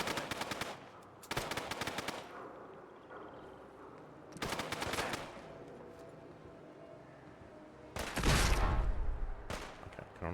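Gunfire in the video game Fallout: London, several separate bursts of rapid automatic shots, loud and sharp with short quiet gaps between them and the heaviest burst near the end.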